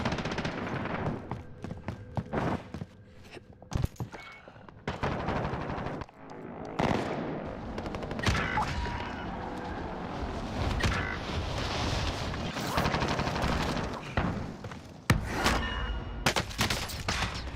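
Video game gunfire: loud, dense bursts of rapid automatic shots and single cracks, nearly continuous, with brief lulls between volleys.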